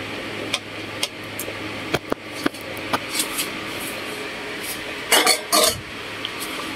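Metal lid set onto a cooking pot of milkfish sinigang with moringa, giving several sharp clinks and a final rattling clatter over a steady kitchen hum, close and moderately loud.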